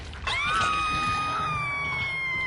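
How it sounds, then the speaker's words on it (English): A survivor screaming while being hooked in Dead by Daylight, a loud sustained wailing cry that starts abruptly and holds across the clip, with quiet gameplay noise beneath. "He's got that shit that I think makes you scream when he hooks."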